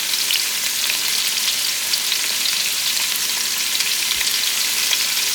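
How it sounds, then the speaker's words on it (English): Pot roast meat sears in a crockpot pot with a steady, close, loud sizzle and crackle of frying that holds evenly throughout, with no voices. "I have it in the pot searing"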